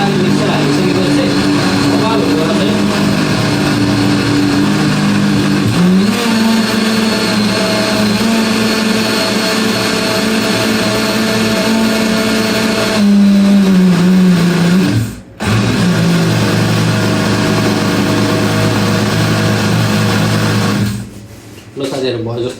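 A mixer grinder runs loud and steady, blending spicy chutney for momos, its motor whine shifting pitch a few times and briefly cutting out before stopping near the end.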